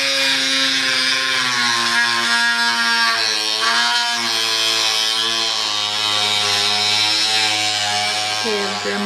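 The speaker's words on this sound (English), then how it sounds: "This is really easy to Dremel" A handheld Dremel rotary tool grinding a faux antique door, a steady high-pitched buzzing whine that runs continuously with slight pitch dips as it bites into the surface.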